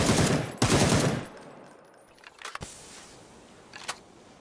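Gunfire in PUBG: a loud rapid burst at the start, then a few fainter single shots and clicks spaced out over the rest of the clip.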